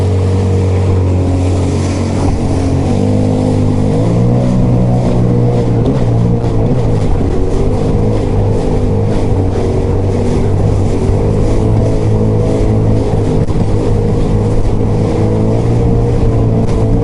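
A Sea-Doo Spark personal watercraft engine drones steadily and loud while riding, its pitch shifting slightly as the throttle changes, with water rush underneath throughout.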